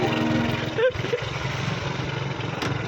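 An old motorcycle engine runs at a steady idle with a dense low rumble, a brief clunk near the start marking a shift into gear, while someone talks over it.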